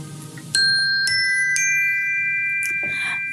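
A doorbell-style chime rings three times at about half-second intervals, each bright tone sustaining and overlapping the next, clear and close against a quiet background during a guided breathing exercise.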